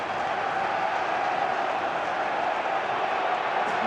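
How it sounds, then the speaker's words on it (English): A rugby stadium crowd at a match against Argentina keeps up a dense, steady roar of massed voices, heard as a broad wash of noise without distinct peaks. "And you hear the shed crowd come into play now."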